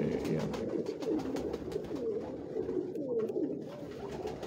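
Pigeons of an old, distinctive line bred since the late 1970s coo steadily from a Lahore rooftop, with overlapping throaty calls rolling on continuously at close range and no voices.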